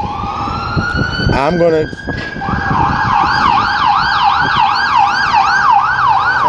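An ambulance siren wails loudly and steadily close by, its rising and falling sweeps carrying through most of the stretch, with someone talking over the start.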